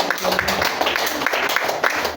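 A church congregation claps together, a dense patter of many hands that runs the whole time, with a voice faintly audible beneath it.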